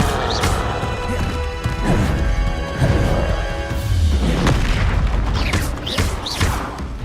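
A fire spell, Incendio, is cast in Hogwarts Legacy amid a dense game soundscape, with repeated crashing, whooshing bursts of magic and impacts layered over a steady rumbling background.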